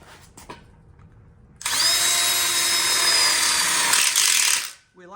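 A power drill drives screws into an outdoor pizza oven frame, with a couple of faint taps before one loud, sustained whine that stops abruptly, followed by a brief rustle.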